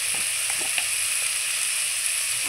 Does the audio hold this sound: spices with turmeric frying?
yes